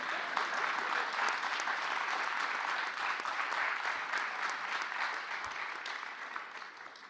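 Sustained audience applause after a poem at an MLK keynote event, a steady dense clapping from a large room that gently tapers off toward the end.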